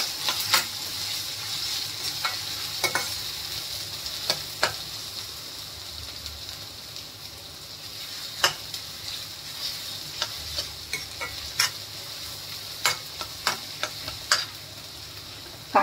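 Finely chopped onions sizzle steadily in a hot pan for masala chole, with a spoon scraping and clinking against the pan at irregular moments over the constant frying hiss.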